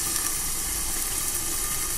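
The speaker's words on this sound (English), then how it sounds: "So throw a little water in there and let the steam take over." Pan-seared lionfish dumplings hit with a splash of water, giving a loud, dense, continuous hiss of steam and sizzle close up, with no talking.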